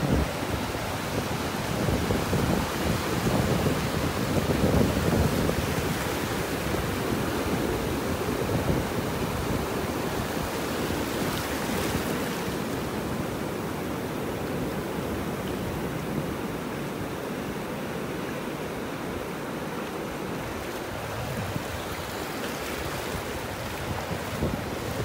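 Steady ocean surf washing onto a beach in North Naples, Florida on a morning walk, a continuous broad wash of waves with heavy wind noise buffeting the microphone throughout, no talking.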